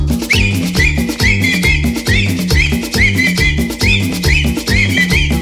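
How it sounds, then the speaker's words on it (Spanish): Whistling rides along with loud, rhythmic cumbia music, a melodic whistled line repeating over a steady bouncing beat with bass and percussion. "Y ahora chiflando todo"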